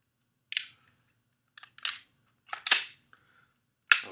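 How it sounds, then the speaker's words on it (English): A handgun's slide clacks as it is worked back during disassembly, four sharp metallic clicks and snaps spaced irregularly over a few seconds, close and isolated against silence. "you only want to slide the gun back a hair"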